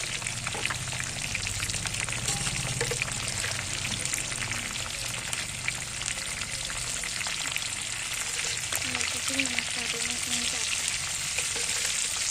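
Tinda (apple gourd) curry fries in a pan with a steady, close, hissing sizzle that runs unbroken throughout, and only faint incidental sounds sit beneath it.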